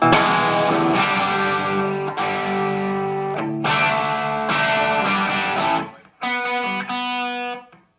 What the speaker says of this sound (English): right now you're hearing the amp. This is in 5 watt mode.